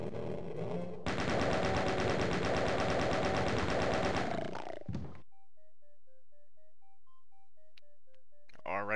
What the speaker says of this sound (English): I like to use the chain gun so I can stun them